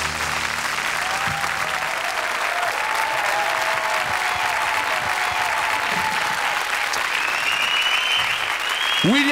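Dense, steady applause from a concert audience after a performance, sustained loud clapping throughout with no voices.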